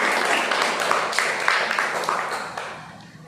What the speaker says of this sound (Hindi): हाँ, तालियां बजाओ।